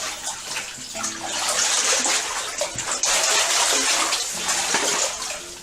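Someone wades through shallow water in an old 1700s mine tunnel lined with timbers, wearing waders, producing steady close sloshing and splashing with no talk.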